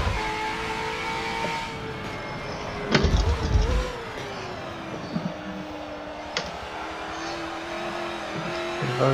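A race car in Forza 7 oversteers, its engine note dipping and surging with a short burst of tire squeal and a thump partway through, loud and close.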